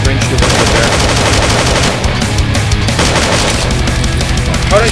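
Loud, continuous rapid gunfire from the 2D video game Slendytubbies 2D Revolution, dense automatic bursts filling the whole stretch with no pauses.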